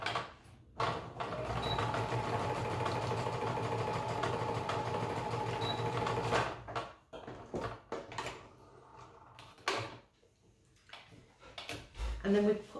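A sewing machine stitches a small dart on a fabric toy bunny body in a continuous close whirring burst lasting several seconds, followed by quieter handling noises and a few short machine starts.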